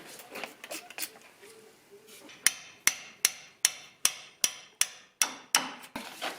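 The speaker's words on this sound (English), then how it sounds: "just get a hammer and try to hammer it to get a bit of leverage" A hammer strikes the lower ball joint of a VW Golf GTI in about ten sharp metallic blows at a steady, quick rhythm, after some lighter clinks and knocks, close and loud with no talking.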